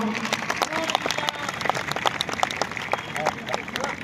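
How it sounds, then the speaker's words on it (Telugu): Audience clapping and cheering at a Republic Day celebration on a police parade ground, a dense, steady burst that fills the whole stretch, with a crowd murmuring and a few voices underneath. "క్లాప్స్ ఇవ్వాలి ఇప్పుడు మీరు"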